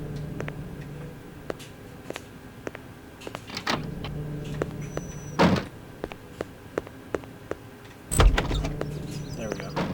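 A door opens in the PlayStation 2 game Hitman 2 Silent Assassin with a mechanical slide and thunk, among sparse clicks and a later heavier knock, over a low ambient hum.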